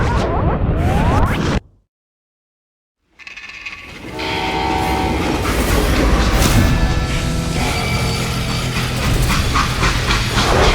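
A freight train in the Western shooter Call of Juarez: Gunslinger rumbles and clatters loudly on its rails. A horn-like tone rings out first, then a short break of silence, then the heavy rolling din resumes.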